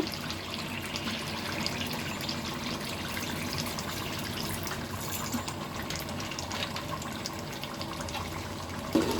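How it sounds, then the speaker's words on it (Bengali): Vinegar is poured into a mango, chili and garlic pickle in a home kitchen, making a soft, steady liquid trickle that runs continuously at low volume. "এখানে আমি ভিনেগার দিয়ে দিব।"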